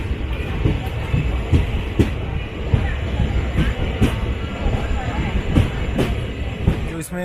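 Murkongselek Express running with old ICF seating coaches, a steady rumbling ride with regular clickety-clack wheel knocks over rail joints, heard from inside the carriage.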